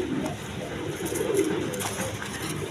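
Pigeons coo softly at a breeder's pigeon market stall, low murmuring calls repeating under a steady background hum, with no talk over them.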